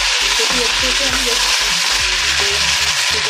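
Chopped tomatoes fry with ginger garlic paste in a pan, giving a steady, loud, close sizzle with a few soft stirring knocks underneath.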